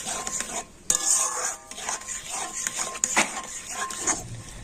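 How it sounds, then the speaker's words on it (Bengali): A spoon working stiff semolina dough with salt around a pan, steady scraping and stirring strokes up close with brief pauses, a few clinks against the pan and a faint sizzle underneath. "আর এখন আমি নেড়ে চেড়ে এটা কিন্তু একটা শক্ত ডো তৈরি করে নেব।"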